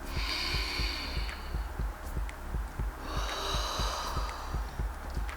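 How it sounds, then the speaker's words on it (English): Deep breathing exercise: a person breathes heavily and rhythmically through the nose in quick, forceful pulses, with longer airy inhales and exhales between them, close and fairly loud. "deep breaths"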